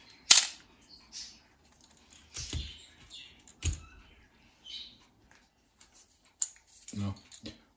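A repaired Canon A-1 film camera fires its shutter, including at the fastest 1/1000 setting, giving several sharp isolated clicks spaced a few seconds apart, close and crisp against near silence.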